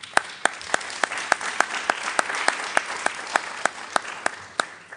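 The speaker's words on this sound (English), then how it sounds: "please give a big applause to our panelists" Audience applause for conference panelists at a university panel session, a steady wash of clapping with regular sharp claps standing out, loud and close, with no voices over it.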